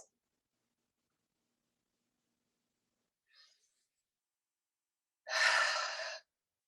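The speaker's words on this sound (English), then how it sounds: "And just taking a couple more deep breaths." Deep breathing in a guided meditation: after near silence, a faint brief breath, then one long, close exhale or sigh lasting about a second.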